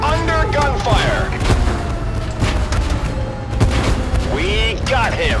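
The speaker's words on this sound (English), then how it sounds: "We are under gunfire." Gunfire and explosions in a tank video game set on an island, repeated booms and shots in quick succession under excited talking voices.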